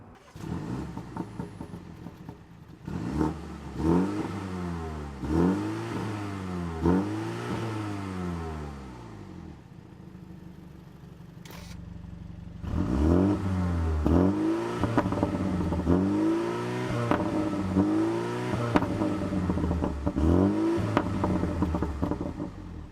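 A BMW M235i Gran Coupe's turbocharged engine revs and accelerates through several rising gear pulls, drops off briefly, then climbs again in repeated surges; loud and close, no talking.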